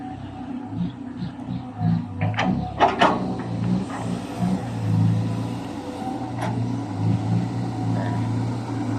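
A CAT 323GX twin-turbo excavator engine runs at about 1600 rpm, a steady low drone with surging rises as it loads during earthmoving and ground-levelling, with brief clanks and a voice speaking faintly.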